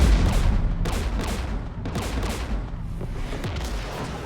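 Gunfire in Mass Effect 3 combat near a Geth jamming tower: repeated loud bursts of shots and booming impacts at a steady rhythm over several seconds, with no speech.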